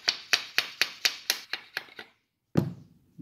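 A rubber mallet hammers a part during a repair: about nine evenly spaced, sharp close strikes that gradually soften, then a pause and one heavier thump, with no talking.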